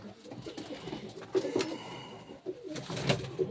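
Pigeons coo close by in a bird market setting, several soft rolling calls overlapping in irregular bursts with faint background noise.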